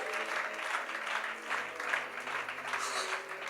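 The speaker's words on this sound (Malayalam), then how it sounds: "ഒന്ന് കൈയടിച്ച് ആദരമൊന്ന് തുറന്ന്." Audience at a pastor's church gathering claps together in a steady, dense wash of applause, fairly close and continuous for a few seconds with no talk over it.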